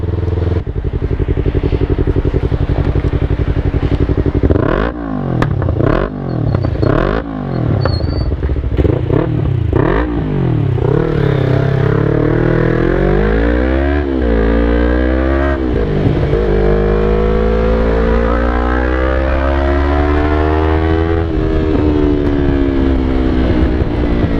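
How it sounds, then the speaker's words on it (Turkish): A motorcycle engine with a new exhaust is revved hard again and again, loud throaty exhaust rising and falling in sharp bursts before settling into longer climbing revs, in the rain. "egzoz taktım motora"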